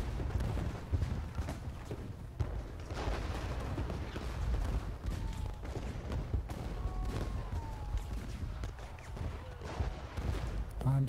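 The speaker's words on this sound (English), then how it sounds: "All our artillery firing?" Artillery booms in the Ultimate General Gettysburg strategy game, a steady low rumble of distant cannon fire and battle noise running throughout, with faint game tones over it and a voice speaking at times.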